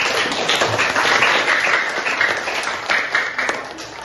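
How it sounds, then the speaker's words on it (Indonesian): Classroom or training-session participants give a burst of applause: steady, fairly loud clapping from a group that runs the whole moment without talk. "kasih aplaus"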